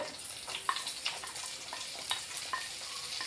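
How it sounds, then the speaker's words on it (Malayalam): Chopped shallots frying in hot oil with ginger and garlic for a Kerala-style prawn roast, a steady close sizzle with occasional scraping stir sounds and small crackles, no one talking. "ഇഞ്ചിയും വെളുത്തുള്ളി ചെറുതായിട്ടൊന്ന് മൂത്ത് വരുമ്പോൾ അതിലേക്ക് കൊച്ചുള്ളി അരിഞ്ഞത്"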